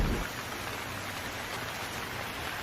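Steady rain falling on a surface, an even, soft, continuous patter with no voices.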